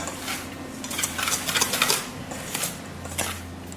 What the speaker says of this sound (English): So we're just going to whisk those two things together.